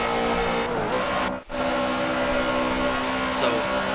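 Race car engine in a racing video game, a steady droning whine heard from the hood view on a final lap, with a brief cut-out partway through and no talk.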